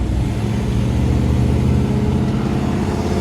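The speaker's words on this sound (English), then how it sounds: "Truck's sitting here and it is 100 degrees out today and it's idling like it's supposed to." A lifted Squarebody three-quarter-ton truck with an LS swap engine idles steadily on a hot day, a close, continuous low rumble with no revving or voices.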